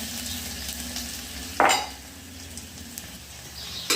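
Grated coconut and garlic frying in a pan, a steady hiss of sizzling with a sharp clink of a utensil against the pan partway through and another at the end.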